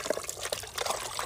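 Spring water from a mountain source is poured, a short soft trickling and splashing heard close by and fairly quiet.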